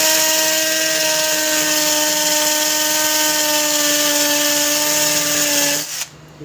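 A twenty-volt battery drill fitted with a drill bit bores into concrete, a loud steady whining motor tone held for about six seconds before stopping abruptly.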